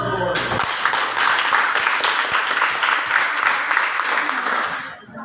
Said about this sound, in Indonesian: kita berikan aplaus untuk kelompok apa? Gold